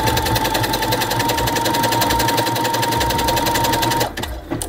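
Sewing machine running a steady zigzag stitch along a knit fabric hem, loud, close and continuous for about four seconds before stopping abruptly, with no talking.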